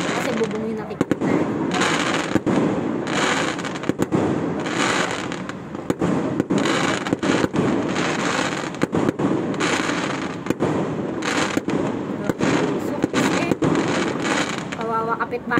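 Fireworks display at an SM mall on December 25, 2024: repeated loud bangs and crackling volleys in uneven bursts, people chatting beneath the explosions.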